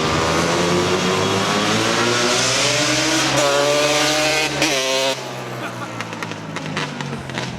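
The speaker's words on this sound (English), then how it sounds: "Can't hear it over the car on the dyno." A car on a dyno roars loudly at sustained high revs, the pitch sweeping up then dropping as the engine comes off throttle near the end, leaving a lower rumble.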